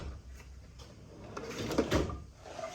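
A drawer sliding open on a Milwaukee tool box, a short rolling scrape with a couple of light knocks near the middle, close by and fairly quiet, with no talking.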